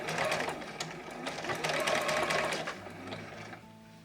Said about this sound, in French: Et on va coudre